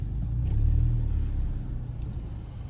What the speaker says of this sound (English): Ford pushing a Toyota.